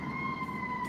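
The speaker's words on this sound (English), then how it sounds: "There's an ambulance going by." An ambulance siren passing outside, a steady two-tone wail holding level through the short moment, distant and muffled as if heard from indoors, with no talk over it.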